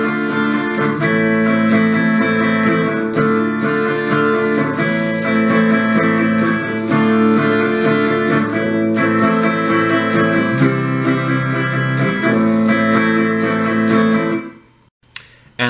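Electric guitar plays the chorus part of a song, a steady run of ringing chords and notes that continues for about fourteen seconds and then stops abruptly.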